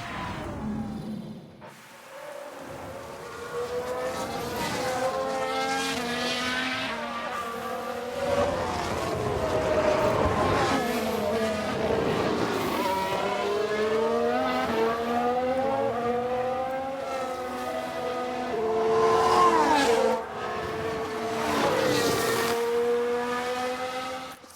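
Race cars in the F1 Manager 22 video game after a spin, engines whining and shifting pitch as cars rev and pass, continuous and fairly loud.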